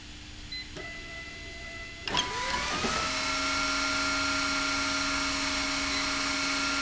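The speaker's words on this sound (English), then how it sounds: "the vacuum fan is not always spinning, collecting dirt and debris inside" The vacuum fan of a FoxJet Spec.e label applicator spins up after a clicking engagement, its tone sweeping then settling into a steady, moderately loud whirring hum over the machine's background drone.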